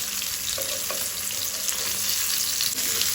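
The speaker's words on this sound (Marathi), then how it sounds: "आता आमी ताल्ले परतून घेवया" Goan sardines fry crisply in a pan over a medium flame, filling the space with a loud, continuous sizzle and crackle, with a few soft stirring touches in between.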